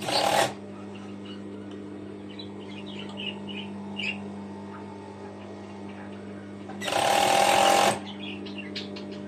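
A sewing machine stitches a polar fleece vest collar in two loud buzzing runs, one brief at the start and a longer one near the end, with a steady low hum and faint chirps in the quiet gap.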